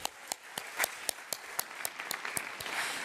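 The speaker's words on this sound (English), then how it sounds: "Let's give her a round of applause as well." Faint, sparse clapping from an audience at a World Bank Group Youth Summit, scattered sharp claps in an uneven rhythm heard from a distance over about three seconds.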